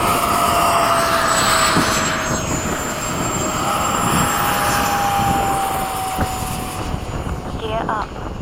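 Jet aircraft engine in flight, a steady loud roar with whining tones sliding slowly across the clip, heard from inside the aircraft while a voice talks over it.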